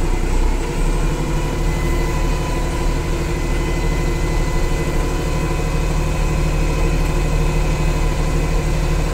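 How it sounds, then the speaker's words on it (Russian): A Japanese compact tractor with a cab runs at a steady idle while turning, a continuous low rumble with an even mechanical vibration throughout, close by and fairly loud. "трактор будет очень и очень быстренько поворачивать"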